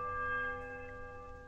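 A smaller heavy iron bell struck in the video game Pillars of Eternity gives a clear, ringing metallic tone, loudest at the start and then decaying gently.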